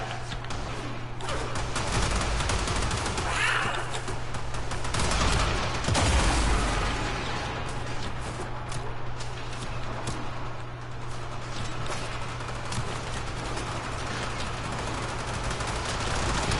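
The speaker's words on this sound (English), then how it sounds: "these guys are actually shooting at me" Enemy gunfire in the Warframe video game: rapid, overlapping shots and bursts rattle continuously at moderate loudness, with scattered game effects layered over a steady background hum.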